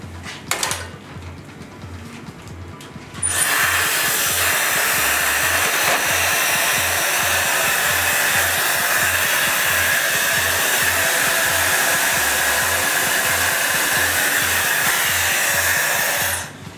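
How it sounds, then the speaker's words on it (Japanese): A hair dryer dries hair in a salon after a haircut, switching on after a few seconds of quiet. It then blows loud and close as a continuous steady roar to the end. "乾かしてみましょう。"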